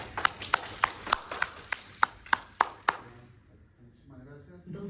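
Sparse applause at a university event: about ten separate, sharp hand claps in an uneven rhythm, then quiet background murmur.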